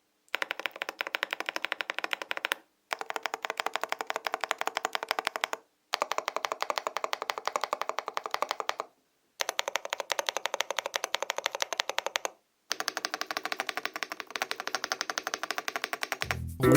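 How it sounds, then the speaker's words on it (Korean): Rapid, rattling stabilizer key presses on an Epomaker DynaTab 75X mechanical keyboard come in several long bursts separated by short pauses, clacky and close up, with no speech. "스테빌라이즈를 한번 들려드리겠습니다"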